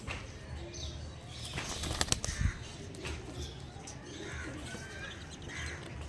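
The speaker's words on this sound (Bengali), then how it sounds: "সব দেখিয়ে দিচ্ছি পায়রার কোয়ালিটি।" Andhra breed pigeons flapping their wings in a loft, a few quick bursts of wingbeats and rustling, close by, over a faint background with occasional distant bird calls.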